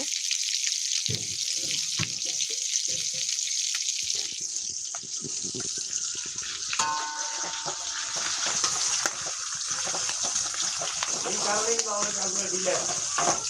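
Ingredients for a spicy dried fish chutney fry in a pan with a steady close hiss and sizzle, stirred now and then, while a voice talks over it.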